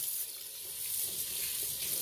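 Water runs steadily from a kitchen tap over beef neckbones being rinsed in the sink, a continuous hissing splash at moderate level with no talking.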